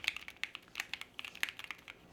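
Keys on a Keychron Q6 Max keyboard with Banana switches are typed at a quick, uneven pace, each press a crisp, close, fairly quiet clack with no voices.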